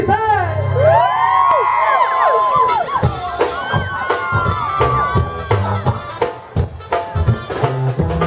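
A live concert audience in Las Vegas shouts and whoops loudly in a dense, excited roar, with cheers rising and falling as sharp accents punch through the crowd noise.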